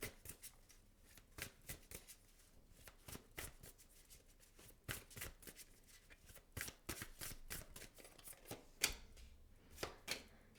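A deck of tarot cards being shuffled at close range, producing repeated crisp riffling bursts and flicks in an irregular rhythm, with no voices heard.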